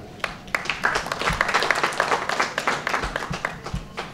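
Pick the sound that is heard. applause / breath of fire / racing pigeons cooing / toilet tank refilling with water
applause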